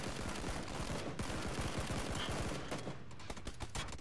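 Rapid bursts of video game gunfire crackle continuously, dense and loud, like sustained automatic fire with no talking.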